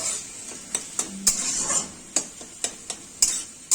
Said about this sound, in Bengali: এবার একটু নাড়াচাড়া করে নামিয়ে নেব